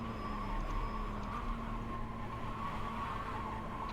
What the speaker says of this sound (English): you can also hear quite a bit of tire feedback